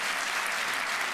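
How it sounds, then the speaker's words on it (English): Audience applause at a 2017 business of the year awards ceremony: a brief burst of steady, dense clapping from a crowd, loud and continuous. "Round of applause for these guys."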